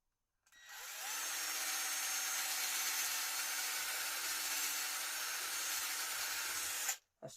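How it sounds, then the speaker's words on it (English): A drill whines steadily for about six seconds as it bores through a dense bitumen damping panel on a small speaker, close and continuous, then stops abruptly. "we've got to get the drill through the bitumen"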